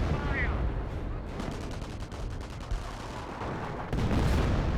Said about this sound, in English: Barrage running on in.